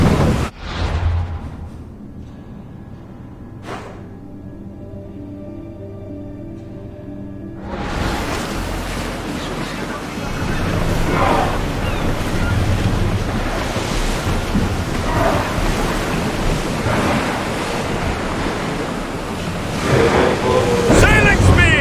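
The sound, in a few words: ship sailing through ocean waves in a video game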